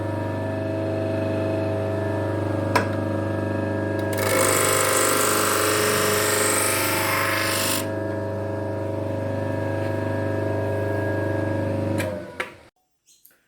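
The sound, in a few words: sharpening a blade, pass on the burr side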